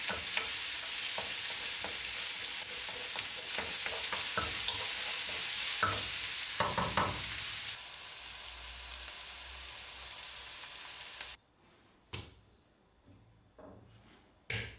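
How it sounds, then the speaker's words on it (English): Onions sautéing in a pan for Hungarian goulash, a steady soft sizzle with occasional stirring scrapes, quieter toward the end with a few isolated clicks. "Sauté the onions until they reach a light brown color."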